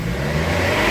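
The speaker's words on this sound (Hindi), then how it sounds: "गाड़ी को अब मैं रेस दूंगा" Toyota Camry engine with a fuel rail pressure sensor circuit fault being revved, a loud, close, sustained engine roar with no talk.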